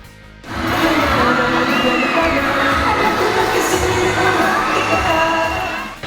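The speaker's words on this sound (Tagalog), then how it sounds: "lalo pang tumodo ang hiyawan nang lumabas na sa stage sina James at Nadine" Fans scream and cheer loudly for James and Nadine coming on stage at an SM Fairview mall show, a dense, sustained roar of a packed crowd that surges in after a brief quieter moment and holds steady throughout.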